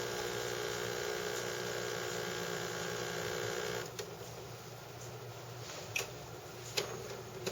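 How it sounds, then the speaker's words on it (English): A Jura Ena 9 espresso machine runs a continuous buzzing pump hum during pre-brewing for about four seconds, then drops to a quieter steady drone broken by a few faint clicks and ticks. "This initial part is the pre-brewing cycle, so first it wets the grinds before subjecting the coffee to the full pressure of the pump."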